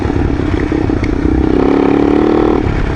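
A Yamaha XT225 trail bike engine rumbles steadily up close, its tone swelling and holding as the throttle opens, with light mechanical clatter over the idle-to-rev rise.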